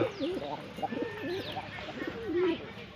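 A pet pigeon cooing nearby, soft repeated warbling coos rising and falling in short phrases, close and fairly quiet, with faint high chirps in the background.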